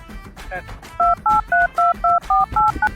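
Keypad tones from a phone as a number is dialed, eight short, evenly spaced beeps in quick succession, preceded by a moment of faint background talk.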